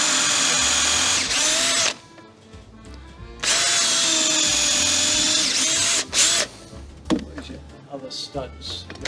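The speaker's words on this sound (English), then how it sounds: "I'm just going to make sure I drill deep enough" A power drill whines loudly in two long bursts drilling into a stud, separated by quieter gaps with knocks and handling noise, and a person talks in between.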